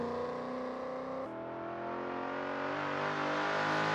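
A race car engine from an Assetto Corsa GT Legends mod drones steadily, its tone climbing smoothly as it accelerates through a gear change, with no talk over it.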